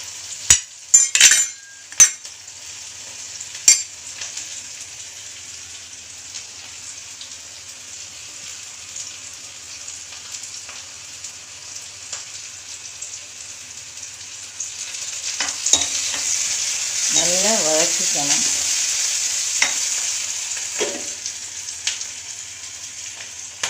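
Onions sauté in a pan for tomato masala, a steady soft sizzle running throughout, with spoon clinks and scraping stirs near the start and again in a louder stretch later on, close by with no talk.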